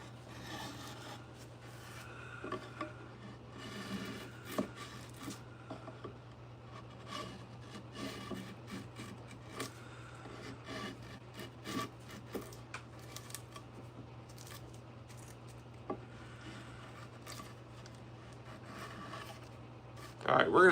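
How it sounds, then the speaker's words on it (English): Sanding a large epoxy cutting board, giving soft, irregular rasping and rubbing strokes over a low steady hum, faint and close, with bursts of handling noise and a louder knock at the very end. "we're going to sand off the rest"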